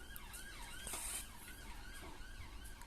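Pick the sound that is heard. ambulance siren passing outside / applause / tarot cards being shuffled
ambulance siren passing outside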